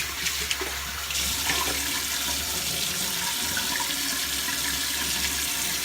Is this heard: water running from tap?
yes